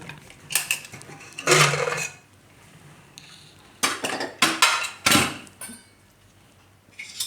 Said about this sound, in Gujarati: તો આને આપણે હવે કુકર ખોલીને જોઈ લઉં.